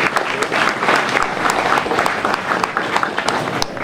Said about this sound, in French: nous devons lui rendre un hommage et l'applaudir très fortement